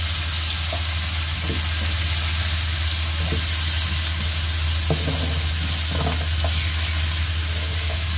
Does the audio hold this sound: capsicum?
yes